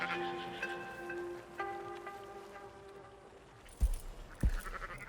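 Sheep and goats bleating in the video game Red Dead Redemption 2, long wavering cries at first, then a pair of dull thuds near the end, with a constant ambient murmur underneath.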